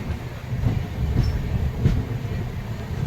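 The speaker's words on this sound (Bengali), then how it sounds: "কামাখ্যা স্টেশন থেকে ট্রেন ছাড়লো।" The Brahmaputra Mail train departing Kamakhya station in light rain rumbles steadily with low rolling noise and faint rhythmic clicks from the wheels, heard close from inside a carriage.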